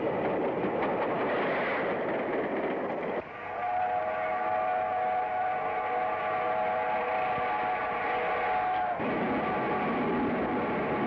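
A steam-era train rushes along rails with a sustained whistle blast held for several seconds over continuous loud rumbling and clatter, the whole passage dense and close.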